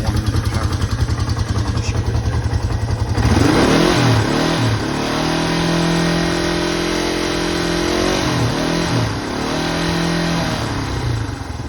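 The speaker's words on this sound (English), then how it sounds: "We'll rev it up one at a time." A 1975 Honda CL360 Scrambler motorcycle engine idles with a close, throbbing beat, then is revved several times, the pitch rising and falling in repeated surges.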